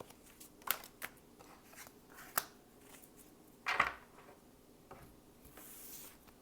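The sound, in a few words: shuffling tarot cards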